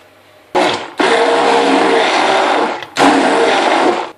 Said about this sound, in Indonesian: sambal pecel kita telah di blender dengan baik